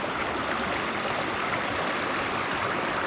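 A clear forest stream flowing after a long rainy season, a steady, even rush of water that stays constant throughout, close and unbroken, with no voices.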